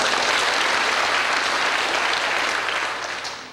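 Sustained congregational applause at a church ordination, pastor installation and retirement thanksgiving service, dense and steady from many hands, then tapering off near the end.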